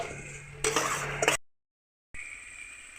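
Vegetables with fennel seeds being gently stirred in a pan, a close scraping and clinking of a utensil against metal in a short burst, followed by silence and then soft background hiss.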